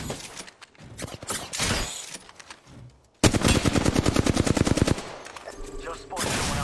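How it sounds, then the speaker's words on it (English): Automatic gunfire in the battle game Apex Legends, with quick bursts early on, then a loud sustained rapid volley in the middle and further shots after it, overlaid by game sounds. "The enemies are shooting at you."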